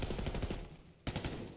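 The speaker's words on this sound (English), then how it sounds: "Opening exchange of gunfire, not a whole lot of damage dealt." Rapid automatic gunfire from a Call of Duty esports match, bursts of quick repeating shots with a brief pause before another volley, fairly quiet and without any talk over it.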